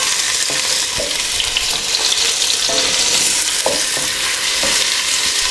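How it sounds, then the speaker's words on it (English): Onions sizzle in a pan on the stove, a loud, continuous close-up frying hiss with occasional soft stirring knocks. "all we want to do with the onions is to just cook them through and just soften them"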